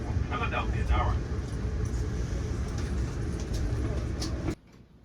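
Amtrak train pulling into the underground platform at 30th Street Station, Philadelphia: a steady loud low rumble and rolling noise with faint voices and squeals, cutting off abruptly near the end.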